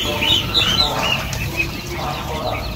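Quails on a farm flap their wings in a flurry of close, busy fluttering bursts as they are caught by hand, with light chirps scattered through the commotion.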